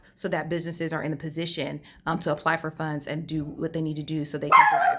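A dog barks in the background of a home recording while someone speaks continuously over it, the barks partly masked by her voice.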